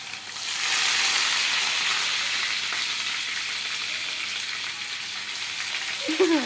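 Ginger garlic paste dropped into hot oil with mustard seeds for prawn roast bursts into a loud, close, hissing sizzle that holds steady and eases slightly over several seconds.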